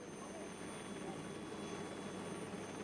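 A helicopter flying over a remote village in Papua New Guinea during the rainy season, heard as a steady, continuous rotor and engine drone with no pauses or spoken voices.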